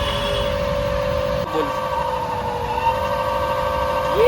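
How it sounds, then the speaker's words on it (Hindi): Okinawa Okhi 90 electric scooter with belt-drive motor running at steady speed, a continuous close hum with a whining tone that rises slightly toward the end, no talk. "ये इस गाड़ी का ओरिजिनल साउंड है जो आता है।"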